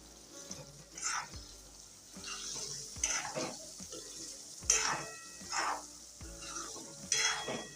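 Stuffed gunda are stirred through an onion mixture in a frying pan over low heat. Soft sizzling sits under repeated spoon scrapes and knocks against the pan, close and fairly quiet, with no talk.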